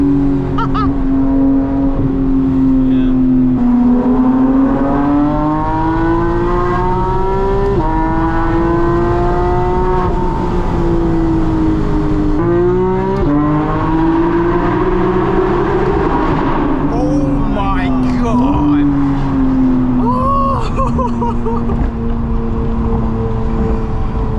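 A loud Porsche GT3 engine roars at full throttle, revving up and down through the gears in a sustained, close, droning wail.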